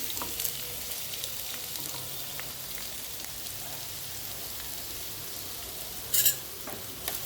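Chopped onions fry in hot oil with a steady, rain-like sizzle, broken by a brief louder scrape of stirring toward the end; no voices are heard.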